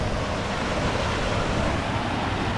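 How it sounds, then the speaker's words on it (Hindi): Water falls from a canal in a hilly riverside spot, heard as a continuous, loud, broadband rush that stays even throughout with no voices over it. "पानी गिर रहा है भैया"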